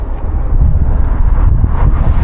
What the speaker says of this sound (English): The wind is definitely the worst when you're on these massive bridges going through the valley.